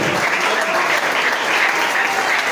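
A church congregation claps loudly and continuously during a sermon, a dense, even wash of many hands with no pause.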